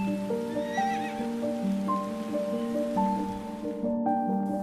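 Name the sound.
horse neighing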